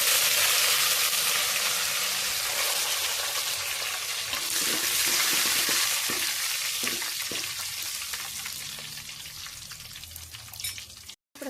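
Masala spices hit hot oil in a pan of chana and fry with a loud, dense sizzle that slowly fades, broken by a few stirring knocks midway and a brief cut near the end.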